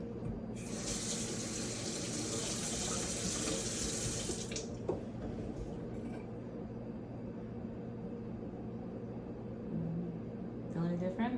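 Cold water gushes from a sink tap for about four seconds, a bright steady splashing stream that then stops, followed by quiet room tone and a brief voice.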